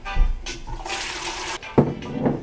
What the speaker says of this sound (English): I'm just gonna pour this out just to make sure that it's nice and smooth